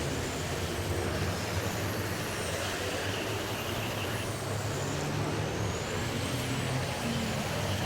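Race cars lapping in the final race at Highland Rim Speedway, a continuous distant engine roar blending into a steady wash of track noise with no talk.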